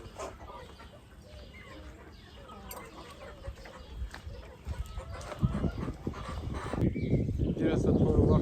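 Chickens cluck in a farmyard while being fed, with people talking nearby throughout and the sound growing louder toward the end.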